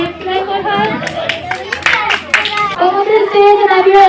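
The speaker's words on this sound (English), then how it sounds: "clap for her" Audience clapping at a school Children's Day celebration, a steady patter of hands that runs throughout under a voice and other talk.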